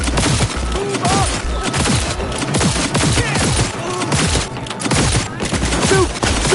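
Dense, loud gunfire from the video game Cyberpunk 2077, rapid overlapping shots and bursts with booming impacts throughout, close and continuous.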